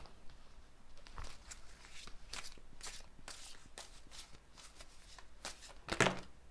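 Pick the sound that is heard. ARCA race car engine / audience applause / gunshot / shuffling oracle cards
shuffling oracle cards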